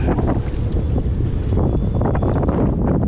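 Strong stormy wind batters a fishing kayak on open water. It makes a loud, continuous roaring rumble with heavy buffeting on the microphone and no voices.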